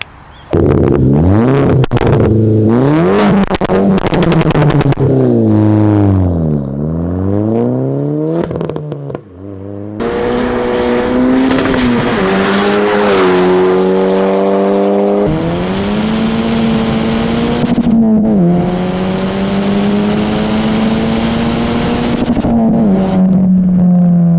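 A Volkswagen Polo WRC with a 380 hp Stage 2 engine revs hard and loud, its pitch climbing and dropping through repeated blips and sustained high-rpm pulls, with crackles between revs and no voices.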